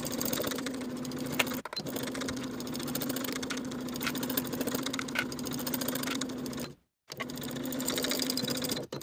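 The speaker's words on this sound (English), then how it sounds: "Sew straight across both of those cuff seams with a 1/2 inch seam allowance" A sewing machine stitches straight across shirt cuff seams, a close, rapid mechanical whir running steadily with two brief pauses, the second a full stop before it resumes.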